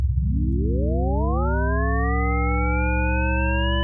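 A thick synthesizer chord of several detuned voices in Phase Plant starts as a low drone and slowly sweeps upward in pitch, spreading into a bright, sustained THX-like swell.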